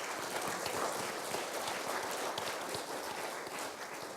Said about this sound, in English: So I think we should actually give her a louder round of applause